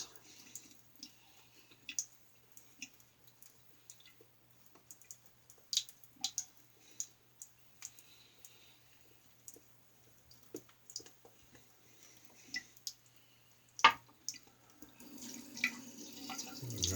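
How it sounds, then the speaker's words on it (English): Water trickles and drips from a tap into a shaving lather bowl, scattered soft splashes and clicks close by, ending in a louder stream of running water. "Let's get a little more water in this."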